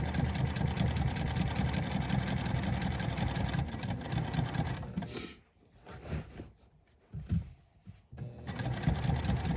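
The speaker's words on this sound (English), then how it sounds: "Top stitch that seam." A sewing machine top stitches a seam on patchwork pants, running in a steady fast whir, pausing briefly for a few short bursts, then resuming its continuous stitching, close and fairly quiet.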